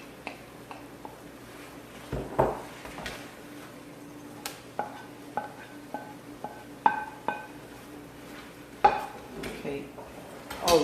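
Fresh vegetables going into a pot and being stirred, with scattered light clinks and scrapes of a utensil against the pot in an irregular rhythm, close and fairly quiet.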